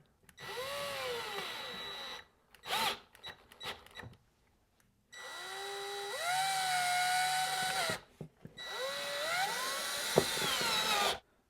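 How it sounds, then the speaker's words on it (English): A power drill whirs in several bursts, spinning up and bogging down as it bites into a wooden wall stud, with short pauses between runs. "time to drill the first one in. This is going into a stud"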